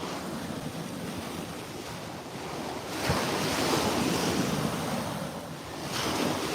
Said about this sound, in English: This is what the beach sounds like.